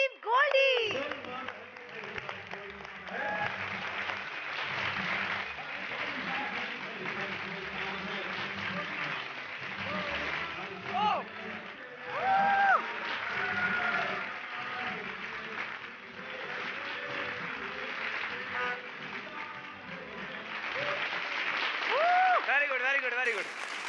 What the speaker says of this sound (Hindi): एक बार जोरदार तालियां हो जाए